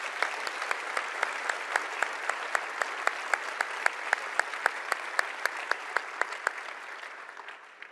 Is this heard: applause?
yes